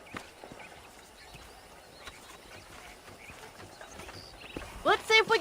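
Faint clip-clop of horse hooves at a walking pace in Red Dead Redemption, under soft ambience, followed by a voice speaking at the end.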